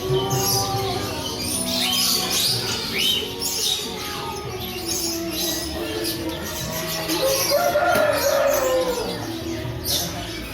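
Caged birds at the Pramuka bird market, a busy mix of chirps, tweets and calls layered over a constant crowd-market murmur, with one louder bird call standing out near the end.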